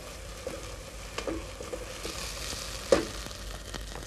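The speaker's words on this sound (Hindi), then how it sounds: "ये तीनों चीजें डालने के बाद इसे मिक्स कर लें, और इन तीनों पेस्ट को हमने भूनना है इस प्याज के साथ" Onions frying in a pan with three spice pastes mixed in, a steady soft sizzle with occasional stirring clinks and one sharper knock near the end; no talking.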